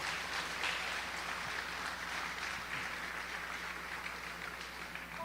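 A Pentecostal church congregation applauds together, a faint, steady wash of clapping from many hands that fills the room and fades slightly toward the end.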